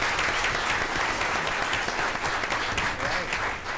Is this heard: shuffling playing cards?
no